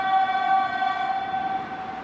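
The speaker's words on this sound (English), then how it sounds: "That is the railway line, which goes from Trieste to Vienna" Train on the Trieste to Vienna railway line, a steady tonal horn or whistle-like drone with several stacked harmonics held for about two seconds over low rumble, fairly loud and alone.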